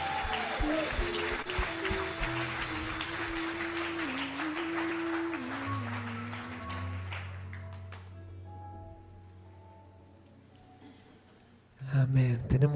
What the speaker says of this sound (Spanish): ¿Cuántos pueden darle un aplauso a Dios?